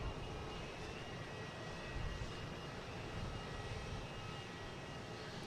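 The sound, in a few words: heavy Delta jet airliners arriving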